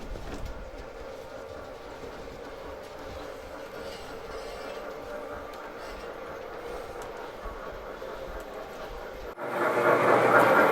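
A G scale garden railway model train running at a model railroad club, a continuous rolling rumble with light clicking wheels heard close by, ending in a louder burst of different noise.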